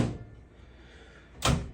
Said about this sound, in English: I will close the door and look at the switches.